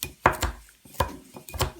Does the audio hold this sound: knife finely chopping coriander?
yes